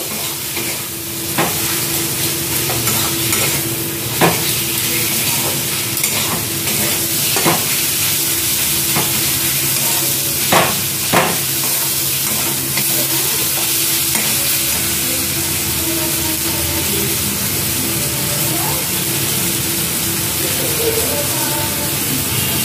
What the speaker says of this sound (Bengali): আর 2-1টা মশলা অ্যাড করবো, এটা একটু কষে নিই